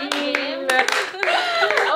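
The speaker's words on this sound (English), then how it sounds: "Slow clap!" A few separate handclaps, spaced out slowly, ring out over lively talk from several people in a studio show setting.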